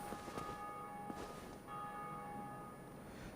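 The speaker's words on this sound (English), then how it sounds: "that bell ringing means that somebody else rang the first bell of awakening in another game" The bell of awakening in Dark Souls tolls faintly in the distance, a couple of soft metallic strikes over a steady game-ambience hum.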